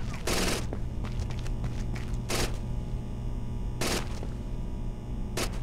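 Gunfire in Rainbow Six: Vegas, with several sharp, loud bursts of automatic fire spaced a second or two apart over a constant background rumble, and voices calling out between shots.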